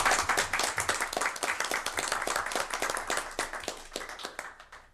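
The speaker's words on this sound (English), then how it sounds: "Maybe a round of applause for Dave." Applause from a town select board meeting crowd, many hands clapping densely for about five seconds and tapering off toward the end, moderately close, with no talk over it.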